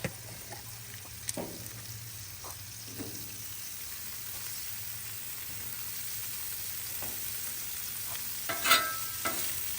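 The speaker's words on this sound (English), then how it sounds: "we're going to go ahead and add our ham to that" Ham fries on a Loco griddle with a steady, soft sizzle, broken by a few light scraping clicks and a brief louder clatter near the end.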